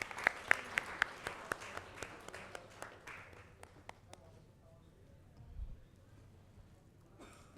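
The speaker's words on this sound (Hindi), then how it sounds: "ज़ोरदार तालियां सर के लिए।" An audience gives applause for a guest at an awards ceremony, a burst of sharp claps that thins out and fades over several seconds, heard alone at moderate distance.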